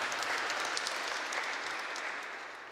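Congregation applauding during a German church service, a full, continuous patter of many hands that holds steady and eases off slightly at the close.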